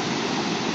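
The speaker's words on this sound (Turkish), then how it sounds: "Bir şelale videosu yine baş başa bırakacağım." The Çeme Reşan waterfall at Karasu near Mazıdağı, Mardin, roars in a steady, loud, dense rush of falling water with no voices.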